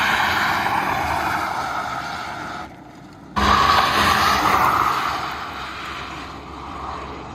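Rimac C_Two four-motor electric hypercar accelerating hard, a loud rushing whine with wind and tire roar that cuts out briefly, then surges back and gradually fades as the car pulls away, with no talk.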